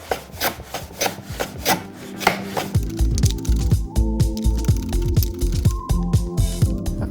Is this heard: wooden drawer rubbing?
yes